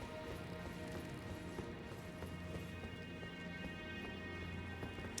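A horse's hooves clip-clop at a steady running rhythm in the video game Elden Ring, faint and even under a soft, rain-like wash of game ambience.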